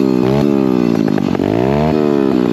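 A dirt bike engine revs loudly and close on a trail, its pitch sweeping up and down in repeated surges with a rough, buzzing tone.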